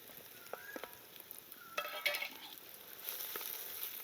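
Freshly pounded ginger garlic paste fries with softened onions in a pan for paneer cashew curry, with a faint, low sizzle and a few quiet scraping stirs.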